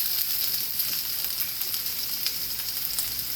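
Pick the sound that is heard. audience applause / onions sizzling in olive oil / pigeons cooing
onions sizzling in olive oil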